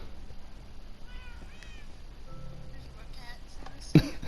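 A few soft cat meows from a Minecraft cat room, brief and faint over quiet game ambience, followed by a short sharp click near the end.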